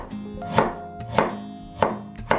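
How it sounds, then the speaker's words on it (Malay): A knife coarsely slices through fresh rendang ingredients on a cutting board for traditional Perak-style Rendang Tok, making four crisp, evenly spaced chopping strikes, close and clear, with no voices. "Buang bahagian yang keras dan hiris kasar."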